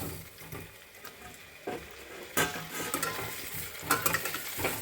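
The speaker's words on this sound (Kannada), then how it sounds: "ಈಗ ಎಣ್ಣೆ ಬಿಸಿ ಆದ ತಕ್ಷಣ ಈ ಆಲೂಗಡ್ಡೆಗಳನ್ನೆಲ್ಲ ಹಾಕ್ತಾಯಿದ್ದೀನಿ." Baby potatoes dropped into hot oil to fry for a potato curry give a soft, fairly quiet sizzle, with stirring scrapes and a few sharper clinks of a utensil against the pan.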